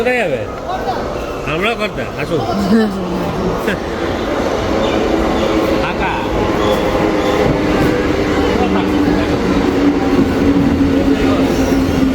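A train runs loud and close with steady rumbling, rail clatter and squealing wheel tones through most of the stretch, while people talk over it near a station.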